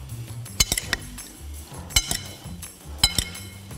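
A fajita chicken salad is tossed with a lemon, salt and oil dressing, with scattered clinks of a utensil against a bowl, some in quick pairs, between quieter gaps and no talking.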